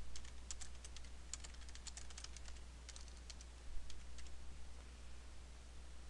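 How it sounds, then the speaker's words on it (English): Fast typing on a computer keyboard during a Windows XP Media Center 2005 installation, with rapid irregular bursts of clicky keystrokes over a steady low hum, fairly quiet and close. "I make lots of mistakes when typing fast"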